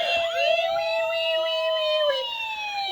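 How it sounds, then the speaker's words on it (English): A police car siren wails in long rising and falling sweeps, steady and fairly loud for several seconds. "Police car. Wee, wee, wee,"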